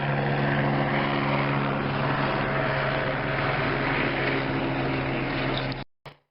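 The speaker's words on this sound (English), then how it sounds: "It sounds like an airplane" Steady droning aircraft-like engine noise from lights in the night sky, loud and continuous for about six seconds before cutting off abruptly, with a brief final burst.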